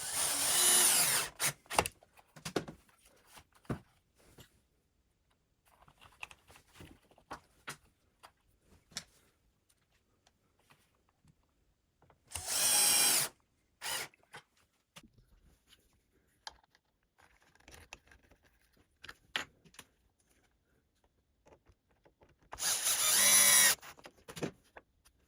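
Three short whirring bursts from a small power driver setting little screws to fix a part near an AUK router motor in a Jessem lift, each lasting about a second, separated by long quiet stretches filled with light taps and handling clicks.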